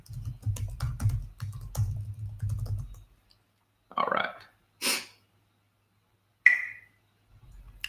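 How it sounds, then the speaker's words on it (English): Rapid clicking keystrokes on a computer keyboard for about three seconds over a low hum, then silence broken by a few scattered noises and one sharp click. "Eric Roberts, let me type in my email, asking for my email."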